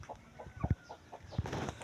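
Chickens cluck nearby in short, irregular bursts, a few soft calls overlapping against a quiet rural background.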